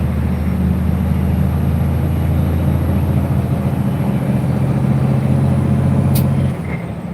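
A truck engine at an asphalt plant runs steadily with a loud, constant low rumble, then drops slightly in level near the end, with no talking.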